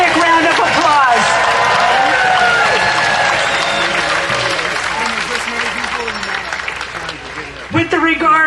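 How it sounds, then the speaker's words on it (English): A crowd at a No Kings rally in Santa Barbara applauds the Santa Barbara Police Department: loud, sustained clapping with scattered cheers and shouts, fading slightly near the end as crowd voices rise. "Give them a big round of applause."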